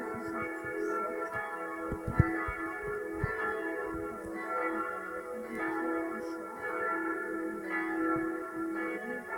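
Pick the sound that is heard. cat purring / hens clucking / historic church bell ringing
historic church bell ringing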